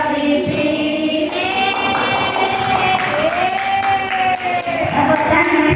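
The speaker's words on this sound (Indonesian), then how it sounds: "Tepuk tangan." Applause from an audience at a teacher training session, a sustained wash of clapping mixed with crowd noise and overlapping voices.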